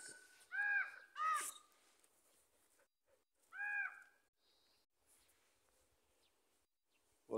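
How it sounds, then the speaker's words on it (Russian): A pair of ravens gives a few loud, hoarse caws: two close together, then a third after a pause, with quiet gaps between them and no talking. "это ворон с Воронихой"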